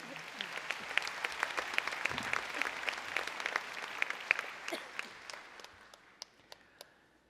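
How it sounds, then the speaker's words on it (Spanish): Congregation applause at a church preaching gathering, sustained clapping from many hands at moderate distance that thins out toward the end into a few scattered claps, with no talk over it. "Les damos un fuerte aplauso que vienen de tan lejos también."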